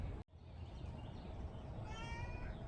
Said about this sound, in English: This is the neighbor's cat.